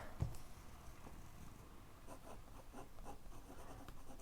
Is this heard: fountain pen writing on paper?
yes